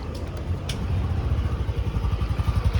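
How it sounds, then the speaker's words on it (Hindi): A TVS Jupiter 125 scooter idles close by, its exhaust giving a low, steady putter that settles into an even pulsing rhythm, with a couple of faint clicks near the start. "आइडल में ये पहले आइडल ये साउंड है"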